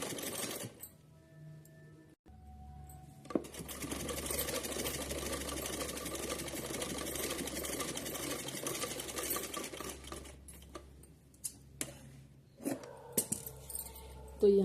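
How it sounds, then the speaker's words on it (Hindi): A sewing machine runs at speed, stitching a strip of red and green fabric for a small Laddu Gopal outfit, a loud steady whirring burst after a few brief handling clicks, then stopping with light clatter. "ग्रीन के ऊपर इस तरीके से सिलाई लगानी है। तो चलिए इसको सिलते हैं।"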